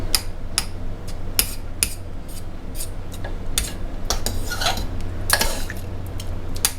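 A utensil stirs creamy Italian chicken with cream cheese in a slow cooker, making a repeated series of sharp clinks and knocks against the pot over a low, steady hum, with no talking.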